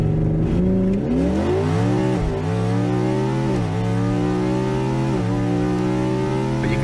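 A 2021 Ford Mustang Mach 1 V8 roars hard down a drag strip, its engine pitch climbing through several gear shifts with brief dips between them, loud and close throughout with no talking.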